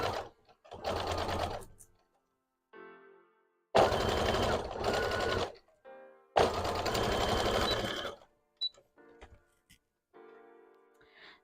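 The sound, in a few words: sewing machine sewing legs onto a plush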